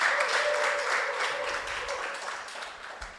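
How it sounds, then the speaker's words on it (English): An evening audience gives the speakers at a Skills Hub Chat a round of applause, a brief, dense burst of clapping that gradually thins out. "Please let's give a round of applause to them"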